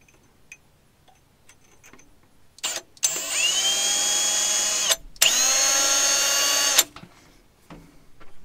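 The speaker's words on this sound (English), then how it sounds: "I doubt I'll be able to drill through this, but let's try it." A power drill bites into metal inside a stud, running in two loud, steady bursts of roughly two seconds each with a brief pause between, and faint ticking handling noises before and after.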